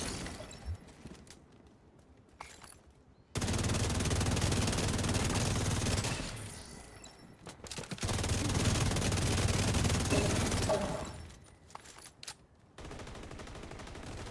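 A turret fires in a video game: two long, sustained bursts of dense, rapid fire, loud and close, with quieter gaps of scattered clicks and action between them.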